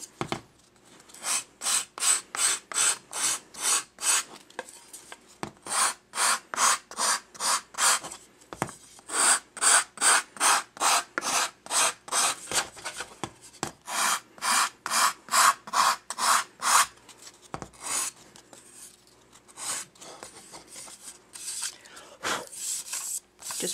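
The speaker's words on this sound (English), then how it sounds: "I just like to smooth the edge so that my paper blends really nicely into my frame" Rhythmic back-and-forth sanding of a paper edge on a photo frame, many quick regular scratchy strokes with brief pauses between runs, close and fairly quiet.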